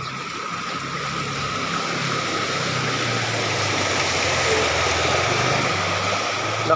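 A motor vehicle pushes through deep flood water with a steady, droning engine hum blended with the constant rushing wash of water, loud and unbroken throughout, with no voices.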